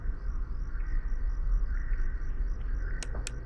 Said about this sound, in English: Those crickets are louder than anything.